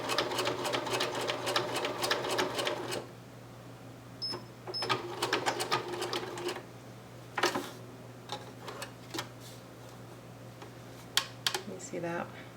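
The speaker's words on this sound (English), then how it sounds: "I'm just going to zigzag right up the seam here." A sewing machine runs a zigzag stitch up a seam on doll-sized slouch boots in quick rattling bursts, first a steady run and then short stops and starts, with a quiet hum and light handling noises between.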